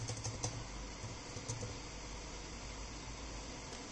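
Soft clicking keystrokes on a computer keyboard come while code is typed, a quiet, irregular patter of taps over a faint background hiss, with no voice.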